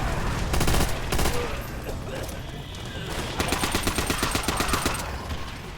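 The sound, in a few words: machine gun fire in video game Call of Duty: World at War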